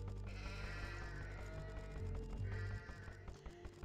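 Sheep bleat in an Age of Empires strategy game match, several overlapping baa calls repeating over continuous game sounds, moderately loud and close, with no talk.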